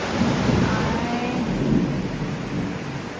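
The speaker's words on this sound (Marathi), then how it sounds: "आणि हा पाऊस बघा मी तुम्हाला पाऊस पण फुल विजा वगैरे समाप्त आहे" Heavy rain pours steadily with a low, rumbling roar of thunder underneath, continuous and fairly loud throughout.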